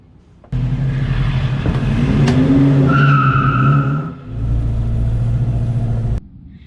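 An old Volvo Amazon drives past close by, its engine note rising and falling through gear changes, loud and steady before cutting off near the end.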